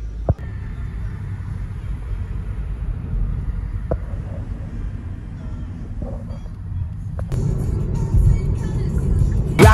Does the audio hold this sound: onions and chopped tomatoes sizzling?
no